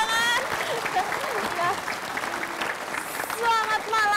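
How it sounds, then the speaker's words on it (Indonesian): An audience breaks into applause at a parody courtroom show, a loud burst of clapping mixed with whistles and cheering voices that dips slightly mid-way and then swells again. "Ya, kita berikan tepuk tangan."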